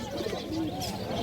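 Pigeons at the Uluberia pigeon market give a brief, low, soft coo amid faint background murmur.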